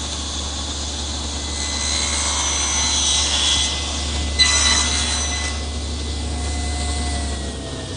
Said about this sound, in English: now I'm cutting the shoulder cuts at the top and bottom of each rail